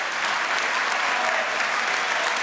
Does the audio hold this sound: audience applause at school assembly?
yes